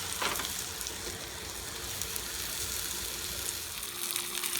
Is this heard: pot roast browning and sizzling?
yes